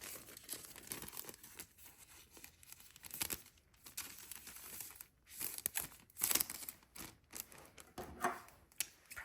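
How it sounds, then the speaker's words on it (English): Scissors snipping through a thin plastic bag while packing small shop orders, with irregular crinkling and cutting noises scattered over several seconds, fairly faint and close. "Probably easier if I cut the bag first"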